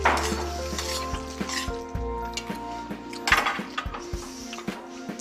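Mushroom risotto with olive oil is stirred in a pan, a steady low sizzle broken by repeated spoon clinks and scrapes against the metal.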